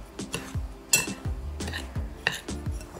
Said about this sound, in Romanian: Într-un bol amestecăm migdalele cu zahărul pudră.